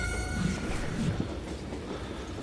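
A steady, continuous rumble of a train rolling along rails in the video game Call of Juarez: Gunslinger, loud and close, with faint metallic squeals riding on top.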